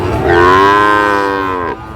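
A single loud, drawn-out moo from a Friesian or crossbred bull calf nearby at a cattle market in Dinajpur, lasting about a second and a half before cutting off.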